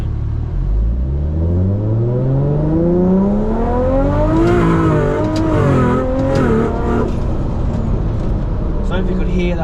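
Nissan R34 GTR with a ZF 8-speed transmission accelerates hard, its engine note climbing steadily, then dipping and climbing again through gear changes, loud and close from inside the car with a voice faintly underneath.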